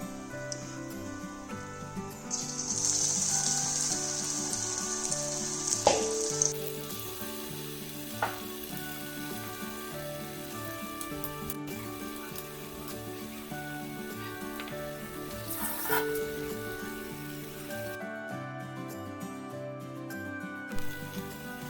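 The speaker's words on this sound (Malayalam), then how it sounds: "ഇനി നമുക്ക് ഇത് പൊരിച്ചെടുക്കാം" Cabbage vada fries in boiling coconut oil, a loud, continuous bubbling sizzle close up, with occasional clinks and a brief bright hiss early on as pieces go in.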